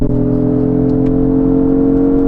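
A Lexus GX 550 drives up mountain roads, its engine giving a loud, steady drone with layered tonal harmonics heard from inside the cabin, with no talking.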